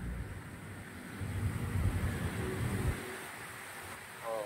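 Strong wind roars steadily with a gusting rush through thrashing palm fronds, loudest in the middle and easing toward the end, on the Manila Bay shore.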